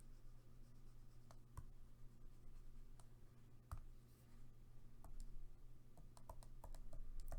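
Pen or marker writing out a factoring step of a math problem, soft scratchy strokes and taps at close range over a steady low hum.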